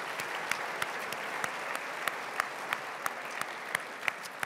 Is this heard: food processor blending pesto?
no